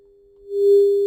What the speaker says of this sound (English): we're going to be able to hear the signal coming from our generator